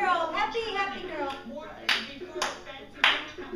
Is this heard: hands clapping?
yes